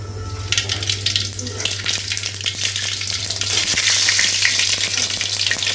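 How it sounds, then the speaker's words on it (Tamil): Steady, loud crackling sizzle of mustard seeds spattering in hot oil, with a constant low hum underneath and sharp pops scattered throughout. "அடுத்து பார்த்திங்கன்னா லைட்டாக கடுகு போட்டுக்குவோம்."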